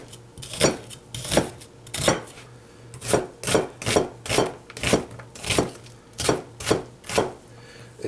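A Cold Steel Bowie Point Bushman knife chopping onions on a board, a steady run of about a dozen crisp, close thunks in an even rhythm.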